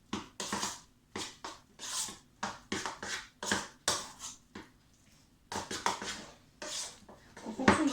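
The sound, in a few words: mixing two preparations together in a bowl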